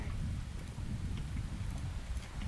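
Steady rain in the video game Neverwinter Nights, a dense, even hiss with a low rumbling undertone, continuous throughout with no voices.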